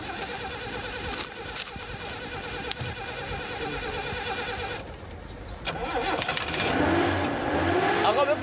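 A repaired car engine cranks and turns over, briefly drops out, then catches and revs up into a loud, rising roar close by, with some talk mixed in.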